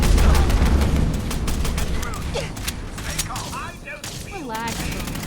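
Gunfire in the video game Fallout 4: a dense, continuous volley of loud shots and mechanical clatter, with chirping sounds layered over it and a voice speaking underneath.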